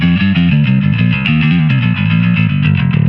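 A Jensen Smooth 10-inch speaker carries a heavily distorted bass riff for metal, with loud, dense repeated notes that run steadily throughout and no talking.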